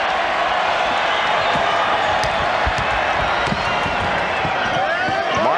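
A basketball arena crowd at the 1993 NBA All-Star Game in Utah roars steadily throughout, with ball bounces and scattered whoops mixed into the noise while a commentator talks over it.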